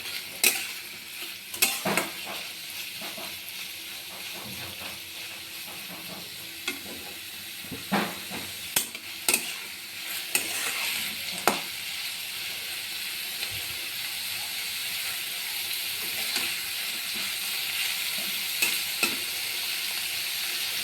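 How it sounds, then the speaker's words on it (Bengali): Onions frying with a little salt in a pan, a steady sizzle and hiss running throughout with occasional sharp pops and stirring scrapes, close and continuous, no voices. "আমি অল্প নুন দিয়ে দিলাম, পেঁয়াজটা তাড়াতাড়ি ভাজা হবে।"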